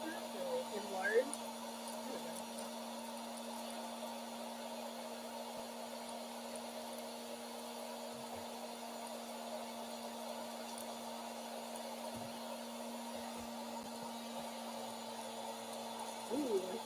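A Sweet Maria's air coffee roaster runs steadily with beans inside, giving a continuous blowing hum with a steady tone and faint rattling, loud and unbroken for the whole stretch.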